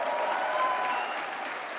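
At a national film awards ceremony, a large audience applauds as a director receives an award, producing a steady, dense roar of clapping that sounds somewhat distant.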